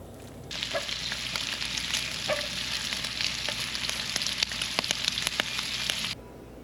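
Bacon sizzling in a covered frying pan at Pershing State Park, a close, quiet crackle full of sharp pops that starts abruptly and cuts off after about six seconds.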